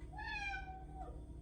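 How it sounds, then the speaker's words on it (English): A small ginger house cat gives a single clear meow that rises and then falls, close by and fairly soft, in a quiet room. "That's my cat."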